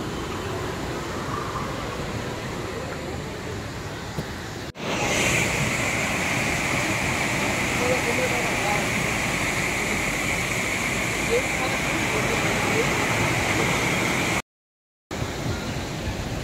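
Kempty Falls waterfall in Mussoorie: a steady, broad rush of falling water fills the whole stretch, loud and continuous, with a brief jolt near the start and a short dropout toward the end.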